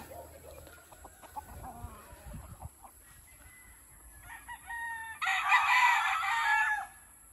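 Farm chickens cluck softly at close range, then a rooster crows loudly near the end, with a few scattered clucks and small bird calls around it.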